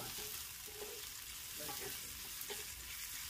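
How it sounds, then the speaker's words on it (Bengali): Chopped onion and Bombai chili frying in hot oil for a spicy bitter gourd fry: a soft, steady sizzle that fills the whole short stretch, with a few faint stirring knocks, quiet and without talk. "তেলটা যখন একটু গরম হবে তখন আমি এর ভিতরে পেঁয়াজ কুচি আর কেটে রাখা বোম্বাই মরিচটা আমি এর সাথে দিয়ে কিছুক্ষণ নাড়ব"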